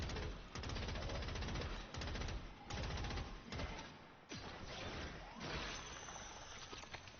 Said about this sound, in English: I have this gun that I'm using is an MG42